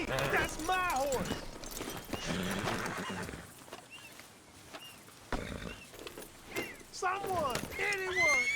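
A horse in the video game Red Dead Redemption 2 whinnies and its hooves clip-clop as it gallops away, with voices talking over the noise.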